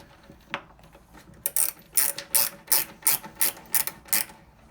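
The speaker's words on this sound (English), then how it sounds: "I wrench this down, once again, not too tight, just firm." A 5/8 leg bolt on a Stern Stranger Things Premium pinball machine is tightened with a pin wrench, giving a quick run of about eight crisp ratcheting clicks, close and alone.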